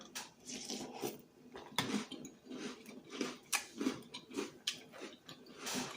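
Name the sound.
chewing a bite of Crunch Berries cereal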